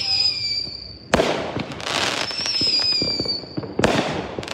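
A cobalt bomb firework at an Independence Day show bursts loudly twice, each blast followed by a long crackling, hissing shower, with high whistling tones between the explosions.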